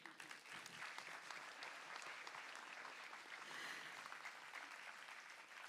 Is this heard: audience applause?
yes